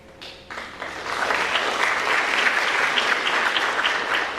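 Audience applause at a high school senior scholarship night, building quickly from a few claps into a full, even round of clapping that carries on steadily.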